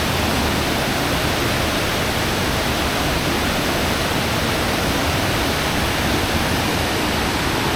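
A powerful waterfall roars on a mountain hike near Drimsynie Estate, a loud, unbroken wash of rushing water that fills the whole scene without pause.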